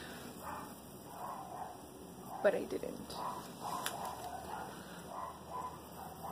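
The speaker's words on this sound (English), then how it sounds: "Why are they barking?" Dogs bark inside a house, several sharp yips and barks at a moderate distance, mixed in with a person talking quietly throughout.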